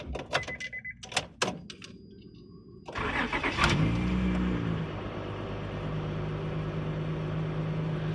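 Honda Odyssey minivan engine cranking and catching after a few clicks and thumps, then settling into a steady, moderately loud idle with no voices.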